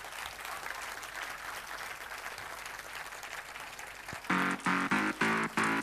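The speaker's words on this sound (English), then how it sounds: "So please give a big round of applause for them." An audience claps for children at a kids' school annual day, a sustained wash of applause that gives way near the end to loud, evenly spaced musical tones.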